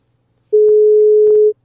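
A steady electronic telephone line tone for an incoming call-in to a podcast hotline sounds for about one second, a single clean pitched beep, loud and alone without talk.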